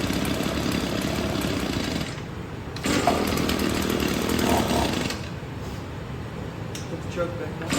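A small Echo two-stroke engine, filthy with broken choke levers and handles, runs in a steady buzzing drone throughout, rising louder midway before easing back, close by.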